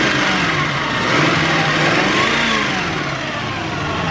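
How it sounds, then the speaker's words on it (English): The 4.5-liter V8 of a 2003 Infiniti M45 revs up smoothly and holds a steady, throaty drone, close by and fairly loud, with no talking. "Revs up nice and smooth."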